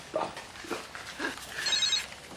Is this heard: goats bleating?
no